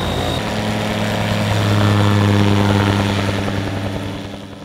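Ultralight aircraft or gyrocopter engine at an air race at Balatonfőkajár, a steady droning hum with strong low tones that swells slightly in the middle, heard alone without talk.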